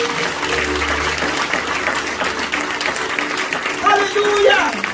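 A church congregation applauds together in a steady wash of clapping that swells near the end, while voices call out over it.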